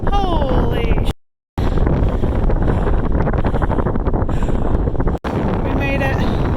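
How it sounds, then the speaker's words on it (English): Strong wind buffets the microphone at the Grand Canyon rim at sunset, a loud continuous roar that cuts out briefly twice; voices are faintly present. "It is really windy up here."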